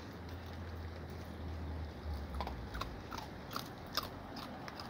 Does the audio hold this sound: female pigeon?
no